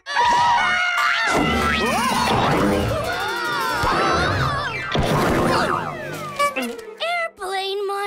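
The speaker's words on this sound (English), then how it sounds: "the scream screen always surprises Goo" A cartoon scream screen in an animated kids' math show lets out a loud, shrill scream, with loud squealing, crashing cartoon noise filling most of the clip before tapering off into brief fragments.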